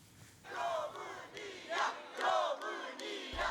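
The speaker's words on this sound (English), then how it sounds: "crowds have been protesting against Călin Georgescu, who won the first round of presidential elections" A crowd of street protesters in Romania shouts and chants against a presidential election winner, a distant, reverberant mass of voices rising and falling in repeated swells.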